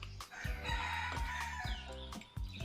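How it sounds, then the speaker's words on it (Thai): A rooster crows nearby in a rural setting, giving several loud, drawn-out harmonic calls in quick succession with clucking fowl mixed in underneath. "โอ้ยเสียงไก่ขันตอนนี้"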